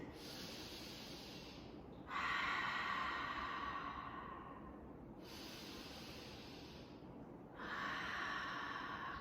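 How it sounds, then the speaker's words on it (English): Deep, slow breaths during a movement exercise session: two long inhale-exhale cycles, each a close, airy rush that swells and fades, with no talk. "Come on, breathe with me."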